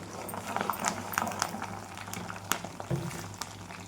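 Herbs fry in oil on a low flame for a homemade hair oil, with a faint bubbling hiss and scattered small pops and clicks.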